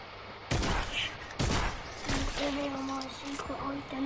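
Bursts of gunfire in a shooter video game, loud volleys at the start and again mid-clip, then lighter scattered shots under a steady tonal hum.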